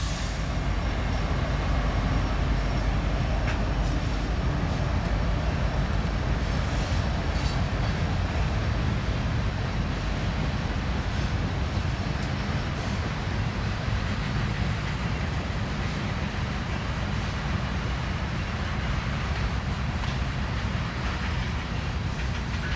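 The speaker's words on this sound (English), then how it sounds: "Got an eastbound CN rolling into town here." An eastbound CN freight train rolls steadily through Waterloo, Iowa, a continuous loud rumble of wheels and railcars with faint clickety-clack, filling the whole stretch without any talk.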